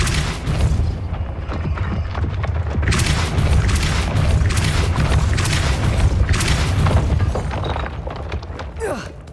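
A Depulso spell blast from the Hogwarts Legacy video game booms loudly with a shattering burst that rumbles and crackles for several seconds, amid other game effects.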